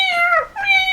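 Two loud, close cat meows in quick succession, each a clear wavering cry with a brief pause between them.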